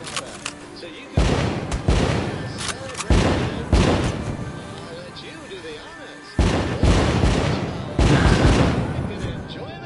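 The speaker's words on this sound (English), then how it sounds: "Our fireworks are loaded with gunpowder." Fireworks loaded with gunpowder burst in the American Dream VR game, a series of loud booming blasts in clusters of several bangs, heard over a person talking.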